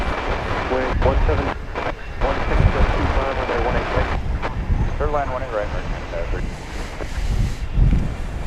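A cargo plane lands at DFW Airport, its engine roar rumbling in the distance beneath heavy wind buffeting on the microphone, while a person talks intermittently.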